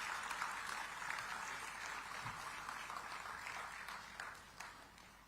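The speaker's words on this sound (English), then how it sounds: "Let's greet him with an energetic round of applause." An audience at a digital technology summit in Visakhapatnam applauds the arrival of a minister, a steady, distant wash of clapping across a large hall that tapers slightly toward the end.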